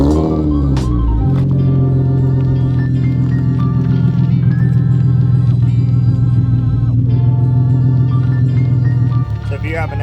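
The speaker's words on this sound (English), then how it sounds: "You should listen to this car start up real fast" A 2005 Infiniti FX35 with its catalytic converters deleted and an aftermarket muffler, its engine starting with a short crank and catching into a loud, steady, deep idle that holds close by for several seconds.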